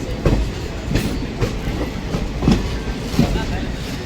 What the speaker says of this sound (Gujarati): એકદમ તે નજીક ટ્રેન છે.